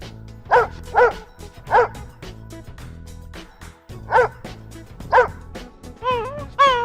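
A dog barks in a farm animal sound series: five loud, separate barks spaced about a second apart, followed by a rising, wavering whine at the end.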